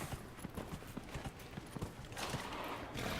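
Horse hooves clip-clop at a steady walking rhythm in the video game Dragon Age Inquisition, soft and fairly close, with a low ambient wash swelling toward the end and no speech.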